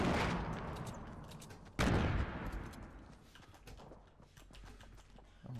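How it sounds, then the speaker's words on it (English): Grenade explosions in Fortnite Battle Royale: a sharp blast at the start, then a second loud thudding detonation that decays into crackling debris, with scattered smaller pops after. "I'm dropping nades in it, try to blow it up."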